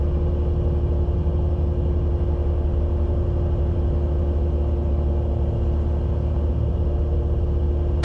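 A sleek gyrocopter with a hotrod engine climbs hard at about 4,500 RPM, its engine and rotor giving a steady, dense droning rumble with a constant tonal hum, close and unbroken throughout.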